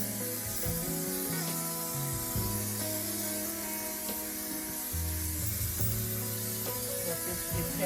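Spray adhesive hisses onto camper van upholstery in a sustained, close spray while music with steady tones plays underneath.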